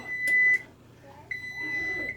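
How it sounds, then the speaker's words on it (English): A kitchen oven timer goes off during oven-baked BBQ ribs, giving two clear, high electronic beeps about a second apart over a quiet room with faint background movement. "Timer off."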